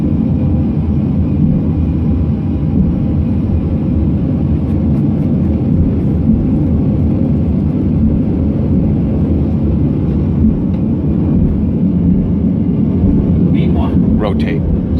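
Jet airliner engines spool at takeoff thrust inside the cockpit, a steady loud broadband roar with low rumble holding constant throughout, faint higher whines near the end.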